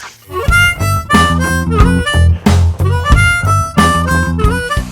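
A bluesy second-position harmonica riff, played in short, repeated phrases with bent notes and breathy, reedy chords, loud and close with brief gaps between bursts.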